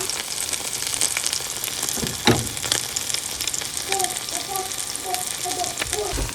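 Morel mushrooms fry in butter in a pan, giving a steady crackling sizzle with a few sharper pops and clatters and an occasional stir. A voice talks over it in places.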